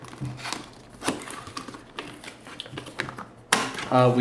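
A DeepCool Neptwin CPU cooler box is opened with a series of close cardboard scrapes, taps and rustles, and a sharper crinkle near the end, while someone talks.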